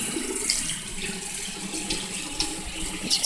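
Water runs steadily from a tap into a sink, a continuous close splashing hiss with small surges, no talking.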